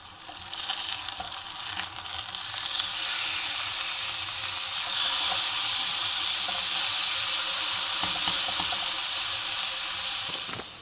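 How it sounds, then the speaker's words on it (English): Chicken sizzles and fries steadily in a pan at close range while pasta water boils alongside, a continuous hissing crackle with faint clinks, and no one speaking. "I'm just cooking this last bit of chicken, but our water is going enough that we can chuck our pasta in."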